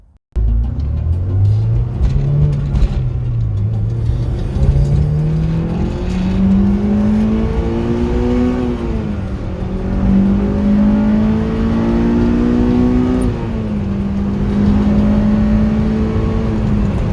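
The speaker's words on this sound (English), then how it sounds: "the engine starts fucking roaring" A Honda S2000 AP2 engine revs and roars up through its range in a long, steady climbing pull, close and loud throughout with no talk.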